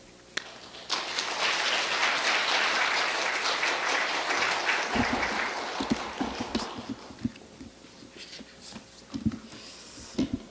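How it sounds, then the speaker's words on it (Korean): A church congregation at a Wednesday worship service claps in welcome as a missionary steps up to preach. Sustained applause fills the first seven seconds, then thins into scattered individual claps and small knocks until the end. "우리 나오실 때 환영하는 격려의 박수 한번 하죠."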